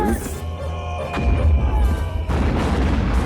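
Grenade explosion from the horror film Jason Goes to Hell, a loud deep boom with heavy low rumble that swells partway through and sustains alongside dramatic film music.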